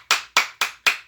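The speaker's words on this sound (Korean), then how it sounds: "하나님께 영광의 박수를 올려드립니다." A church congregation applauds at the close of a Sunday worship service, four crisp, evenly spaced bursts of clapping with short decays, fairly close and loud, no voices.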